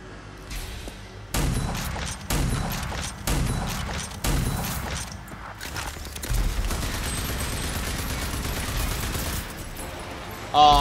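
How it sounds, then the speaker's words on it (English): Explosions and gunfire in the video game RAGE 2: a series of heavy booming blasts and crackling bursts, then a longer stretch of rapid, rattling fire, loud and close, ending in one final sharp burst. "oh, lovely explosion"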